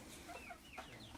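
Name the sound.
rooster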